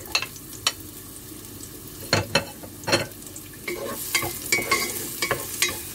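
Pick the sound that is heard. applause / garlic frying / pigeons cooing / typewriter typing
garlic frying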